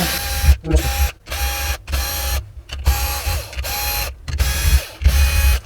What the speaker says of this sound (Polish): Następnie odkręcam wkrętarką